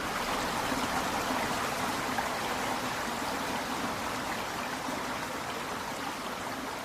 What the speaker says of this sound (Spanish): El agua corría clara, formando pequeñas cascadas entre las rocas.